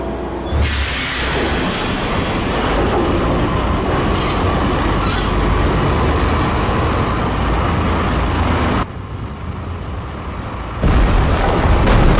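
A train in the video game Max Payne rumbles loudly and continuously with squealing wheels, its roar dropping briefly near the end before surging back, with no voices.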